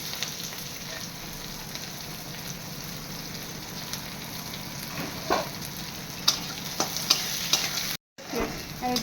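Onion and chilli sizzle steadily in hot oil in a pan while being stirred, with sharper scraping and clattering stir strokes toward the end and a brief dropout near the finish. No talking.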